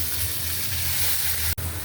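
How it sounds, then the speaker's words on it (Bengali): Onion paste frying in a pan for a fish bhuna curry, giving a steady, close sizzle and crackle throughout, with one brief sharp click near the end. "তো পেঁয়াজ দিয়ে দিলাম ধনিয়া জিরার গুঁড়া, হলুদের গুঁড়া, মরিচের গুঁড়া।"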